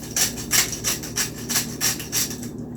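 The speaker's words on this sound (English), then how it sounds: "we're just going to rub it right on that chop" Seasoning rub being worked by hand onto a lamb chop with salt and generous pepper, a steady series of soft rasping strokes repeating about every third of a second, close and without talk.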